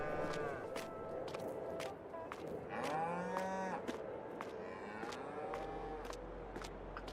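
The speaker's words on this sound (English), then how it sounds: "Super loud cows." Cattle in the Farming Simulator 22 video game moo loudly and repeatedly, with overlapping drawn-out calls and sharp clicking ticks in between.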